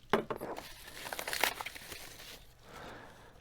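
Plastic mail packaging around trading cards crinkles and tears as it is cut open and unwrapped, a burst of close rustling crackle that fades into softer handling noise.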